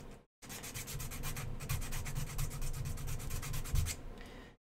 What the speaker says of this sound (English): Just sand the back of them a little bit.